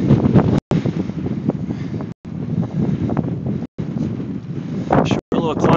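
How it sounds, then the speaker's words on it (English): Strong crosswind buffeting a microphone while riding a bicycle down a road, a loud, continuous low roar with brief dropouts throughout. "down the road here with this crosswind"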